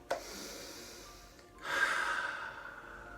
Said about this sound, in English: Take a big deep breath with me.